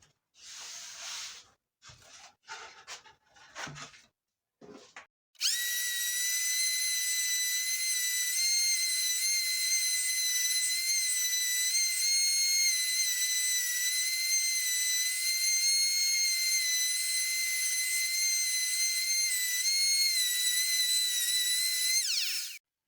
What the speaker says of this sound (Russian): При шлифовке я не очень сильно прижимаю шлифмашинку к детали